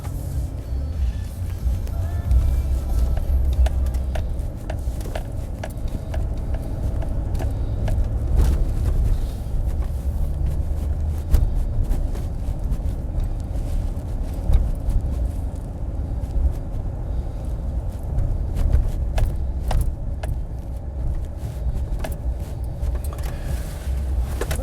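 A car drives along, giving a steady low interior road rumble with occasional small clicks and bumps throughout, with no talk over it.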